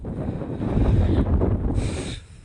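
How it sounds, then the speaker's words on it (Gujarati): Steady cold wind buffets the microphone in a broad low rumble on a hill, easing off near the end with a faint hiss above. "પવન તો ઠંડો આવ્યો"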